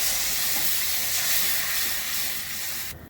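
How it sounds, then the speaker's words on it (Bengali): Water poured into a hot pan of fried spices bursts into a loud, broad steamy hiss and sizzle that holds steady, then fades and cuts off near the end. "জল দিয়ে দিচ্ছি।"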